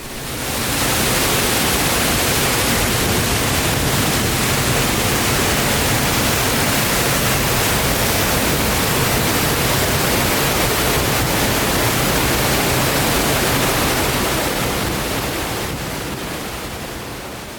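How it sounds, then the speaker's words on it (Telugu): Polluru waterfall in the rainy season, a massive torrent plunging from a height, roars as a loud, dense, unbroken wash of white water that fades slightly toward the end. "పైనుంచి ఆ ధాటున భారీ స్థాయిలో పడుతున్న జలప్రంగుల్లా కనిపిస్తుంటుంది వర్షాకాలపు పొల్లూరు జలపాతం"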